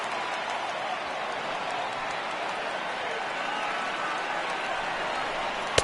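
A stadium crowd in the baseball video game MLB The Show 18 cheers in a broad, steady roar that holds evenly throughout, ending with a single sharp crack.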